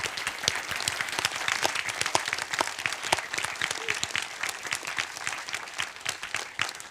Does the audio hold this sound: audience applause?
yes